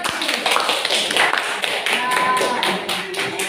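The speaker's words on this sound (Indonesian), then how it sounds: "Tepuk tangan buat diri kita." A group in a classroom performance exam claps for themselves, a lively burst of scattered hand claps that continues throughout, with voices mixed in.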